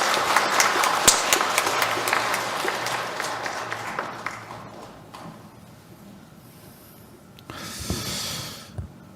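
A church congregation claps at a Christmas night Mass, the applause strongest at first and then thinning and fading out, followed by a quiet stretch and a brief burst of rustling noise near the end.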